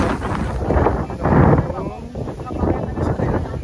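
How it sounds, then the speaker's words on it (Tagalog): Strong wind gusts across a mountain summit on Mt. Batulao during a hike, pressing into the microphone in a loud, surging low rumble, with voices faintly underneath. "Pero malakas daw hangin."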